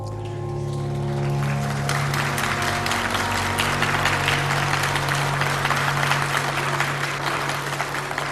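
Broad, steady applause from an audience at a Polish political meeting builds up and continues, layered over a low, sustained hum in a large room.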